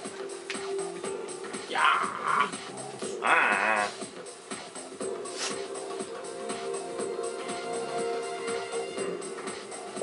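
A pet dog whimpers and growls softly in a room, a few brief whiny bursts over a continuous backdrop of game sound.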